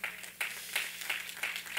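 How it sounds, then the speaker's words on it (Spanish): A church congregation applauds during a Sunday morning service, with a soft, rhythmic clapping that pulses in regular bursts, fairly faint and distant. "¿Quién le da un aplauso al Señor esta mañana?"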